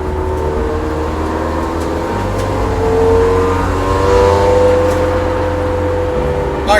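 A Renault Clio RS200 engine burbles and revs from inside the cabin while waiting at the Nürburgring, a steady low drone with rising and falling tonal whine and a slight swell in revs midway.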